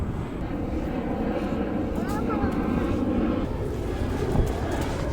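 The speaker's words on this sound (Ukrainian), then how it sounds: "Літаки, літаки тут злітають що, напевно, 5 хвилин." Airplanes taking off in Miami produce a continuous, broad jet engine roar that swells gently and stays loud throughout, with voices audible beneath it.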